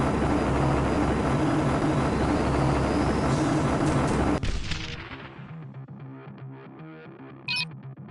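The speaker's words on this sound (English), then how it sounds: "a helicopter keeps strafing the deck" In the Marvel Ultimate Alliance video game, a helicopter strafes a ship's deck. The loud, dense roar of rotor and gunfire cuts off abruptly partway through, leaving quieter game sounds and one brief sharp effect near the end.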